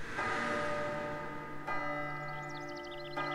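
A church bell tolls in a bell tower in the video game Last Day of June, two deep resonant strikes with long ringing decay, moderately loud, with faint chiming overtones.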